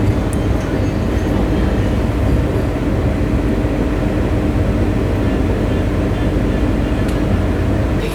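A Vande Bharat express train runs on its inaugural Bengaluru to Belagavi journey, with a loud, steady low rumble and rolling noise heard close from inside the moving train, unbroken throughout.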